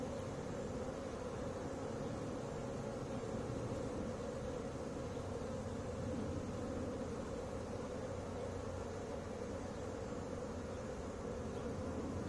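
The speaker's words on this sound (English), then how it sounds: "It's young bees flying for the first time." Young honey bees on their first flight near the hive on a late-June afternoon make a steady, dense buzzing hum, a continuous swarm-like drone with no talking.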